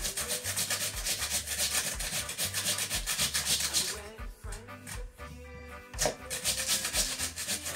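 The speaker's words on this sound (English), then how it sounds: "I'm almost finished with the grating. I have about 2 more potatoes." Raw potatoes rubbed against a grater for Swiss rösti, a close, rhythmic scraping in repeated strokes, with a short pause midway before the grating resumes.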